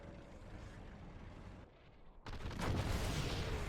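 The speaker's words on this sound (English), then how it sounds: "Artillery is coming in" An artillery strike lands in a real-time strategy video game. A low rumbling barrage gives way to a sudden loud burst of blasts and crackling debris.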